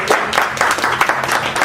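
Audience applause at a health and consciousness seminar, a short burst of dense, lively clapping from a room full of people.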